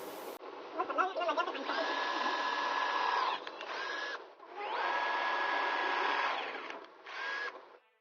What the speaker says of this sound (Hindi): तो यहाँ पर 1 का ड्रिल पाना से मैं सभी ड्रिल कर लेता हूँ।